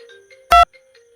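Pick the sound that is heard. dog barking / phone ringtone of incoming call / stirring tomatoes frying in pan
phone ringtone of incoming call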